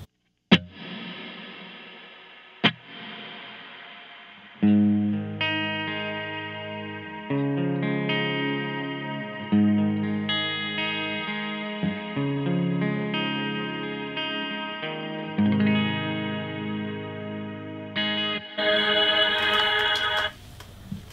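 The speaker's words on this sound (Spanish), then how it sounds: "Tengo el reverb en modo bloom y sonaría de esta forma." An electric guitar plays through a reverb set to bloom mode: a few single plucked notes, then long sustained, layered chords that swell and wash together, loud and alone, with a brighter burst near the end.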